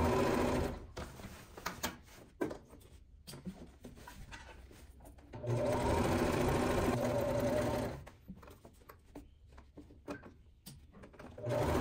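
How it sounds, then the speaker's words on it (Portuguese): A sewing machine stitches the side seam of a nylon bag in steady, rapid whirring runs, pausing briefly between bursts, with a long continuous stretch in the middle, close and moderately loud with no voices. "Aqui vamos costurar, fechando a lateral."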